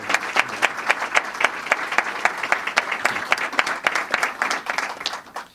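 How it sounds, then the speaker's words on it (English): Applause greets Kentucky's Attorney General Jack Conway at a press conference on substance abuse treatment, a loud close burst of many clapping hands, with distinct sharp claps standing out across steady crowd clapping. "give a big round of applause to Attorney General Jack Conway"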